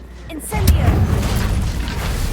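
Incendio fire spell cast in Hogwarts Legacy, a sudden booming burst of flame that swells and keeps roaring steadily, fairly loud and close.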